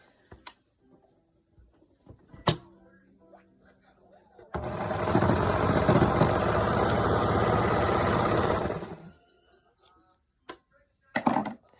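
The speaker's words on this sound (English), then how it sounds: "I'm just going to sew or serge just along these top shoulder seams" A serger runs steadily for about four seconds, stitching along the shoulder seams of a romper bodice, a loud close mechanical whir with quiet handling clicks before and after.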